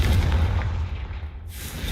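A Confringo spell explodes in Hogwarts Legacy as a loud, booming blast that rolls on as a dense rumble before cutting into a sharp burst of noise.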